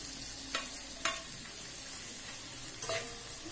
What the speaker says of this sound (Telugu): సరం పోపు వేసుకోండి ఇప్పుడు మనం దీంట్లో ఇది వేసుకొచ్చి